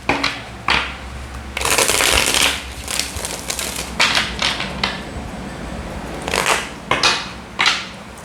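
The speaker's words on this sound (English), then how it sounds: "Last shuffle." Oracle cards are shuffled by hand in repeated quick bursts, crisp riffling and slapping sounds close to the listener with short pauses between each shuffle.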